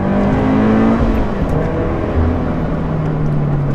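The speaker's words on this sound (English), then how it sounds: "It's got an aftermarket exhaust, but to be honest, as a 4-cylinder, it doesn't sound all that great." A loud 4-cylinder car engine with an aftermarket raspy exhaust drones steadily, its pitch dipping and climbing slightly as it pulls along, no voices.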